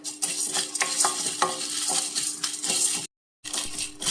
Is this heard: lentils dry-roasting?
yes